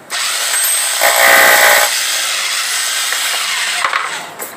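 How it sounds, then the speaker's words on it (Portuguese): A power drill with a smooth bit bores through material in a loud, close, continuous grinding whir. The pitch rises in the middle, then it runs steadily and ends with a few short knocks. "Para a broca lisa. Fura igual manteiga."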